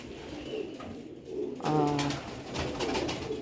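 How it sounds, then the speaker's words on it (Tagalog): Caged Jacobin pigeons coo close by, with soft throaty bubbling calls, one clear rolling coo standing out over a low background murmur. "Jacobin birds."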